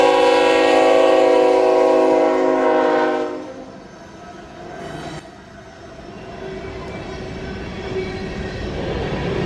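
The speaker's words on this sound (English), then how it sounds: "This is a long train pulling a load of covered hopper rail cars." A long freight train hauling covered hopper rail cars rolls through Cornelia, Georgia. A loud, blaring horn sounds for about three seconds, then fades into the steady rumble and rhythmic clatter of cars passing close by.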